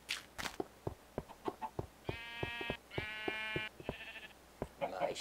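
Sheep in Minecraft give several short wavering bleats, close and clear, amid soft footstep-like taps, with a few quieter sounds near the end.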